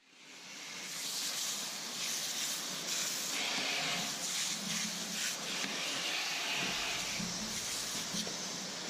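Water spraying steadily as freshly cleaned trout fillets are rinsed down, a continuous broadband hiss lasting the whole stretch, fairly close and even, with no talk over it.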